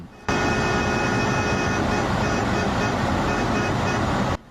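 A car horn blaring in one long continuous blast at a railway level crossing on a road in Liuying, Tainan, loud and close, starting and stopping abruptly over a background of road noise.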